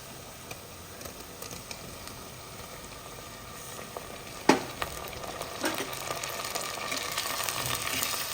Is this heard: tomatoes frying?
yes